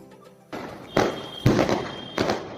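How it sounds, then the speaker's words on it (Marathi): Firecrackers burst on Diwali night in a village, three sharp loud cracks spaced about half a second apart, each with a brief crackling tail, after a quieter stretch of distant background. "आमचे फटाके फोडून झाल्यावर आम्ही लोकांचे फटाके पाहत बसलो।"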